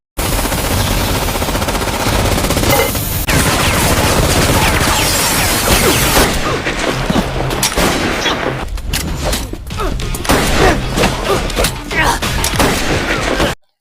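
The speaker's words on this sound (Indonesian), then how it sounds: "Ternyata Miranda dan anggotanya malah menembaki Caleb dan anggotanya dari luar" Sustained gunfire in a gangster film shootout: dense, loud machine-gun bursts and rapid shots fill the whole stretch, continuous at first, then broken into choppier volleys toward the end.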